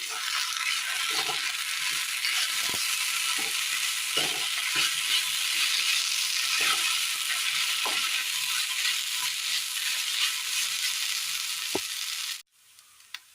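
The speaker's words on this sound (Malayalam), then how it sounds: "നല്ലപോലെ മിക്സ് ചെയ്തെടുക്കാം" A banana and coconut mixture is stirred in a hot pan: continuous loud sizzling and frying with repeated scraping strokes of a spatula, ending abruptly near the close with a brief clack.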